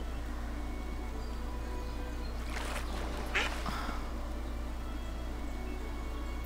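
A duck quacks faintly in the Everdream Valley farming video game, a brief pair of calls in the middle over a steady low background drone.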